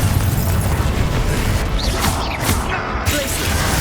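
A Confringo blasting spell in Hogwarts Legacy goes off amid a dense, loud battle din, with booming low rumble and crackling bursts running throughout, broken by a few brighter whooshing surges near the middle.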